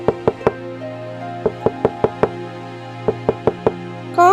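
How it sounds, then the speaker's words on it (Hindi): Knocks on the door of a parrot's nest in a cartoon story, sharp close raps in three quick groups of about four, with steady background music underneath. "वो दोनों सबसे पहले तोते के पास जाते हैं और उसका दरवाजा खटखटाते हैं।"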